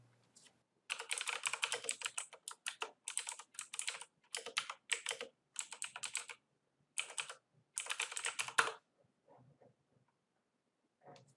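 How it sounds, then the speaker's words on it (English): A command being typed on a computer keyboard into a terminal: close, quick runs of key clicks in several bursts separated by short pauses, then a few light taps as the typing stops. "Now we will write this command to terminal."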